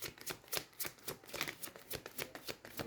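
Tarot cards are shuffled by hand in a quick, steady run of riffling bursts, close and fairly quiet, with no talking.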